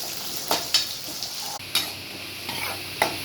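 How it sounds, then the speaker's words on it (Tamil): Garlic and curry leaves sauté in hot oil, a constant sizzle punctuated by several sharp scrapes and knocks of a spoon stirring against the pan, close and clear with no talking. "இப்போ பாருங்கள், பூண்டு செவந்துடுச்சு"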